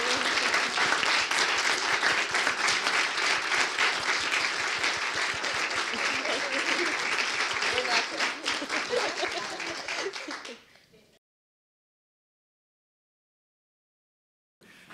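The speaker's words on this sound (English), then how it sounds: "Can we give them another warm round of applause?" A conference audience at a youth apprenticeship panel gives a loud, dense round of clapping that holds steady, thins out and stops abruptly, leaving silence before a faint sound at the end.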